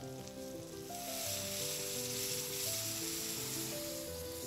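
Kidney and mushrooms sizzle hard in a pan over high heat, a dense, loud, continuous hiss that swells after the first second, with steady tonal music playing underneath.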